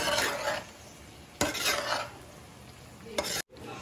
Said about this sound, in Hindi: इसमें ऐड करूंगी साबूदाना। इसे अच्छी तरह मिक्स कर लेंगे।